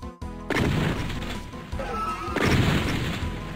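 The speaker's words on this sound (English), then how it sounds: "I definitely hit something with all those explosions" Loud blasts and crashing impacts in the Doom shooter game, a sharp initial bang followed by continuous rumbling explosion noise with layered booms and debris-like crunches, dense and close.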